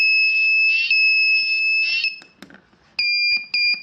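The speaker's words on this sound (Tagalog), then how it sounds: "siren" A ZL66T melody IC buzzer module, a small 3.7 V DC sound-generator board, plays a piercing electronic siren tone with a warbling pulse, cuts off briefly with a few clicks, then resumes in two short loud bursts.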